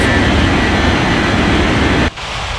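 An airliner's jet engines roar at takeoff power in an air traffic control game, a loud, steady, low rumbling drone that cuts off abruptly near the end, with no talking.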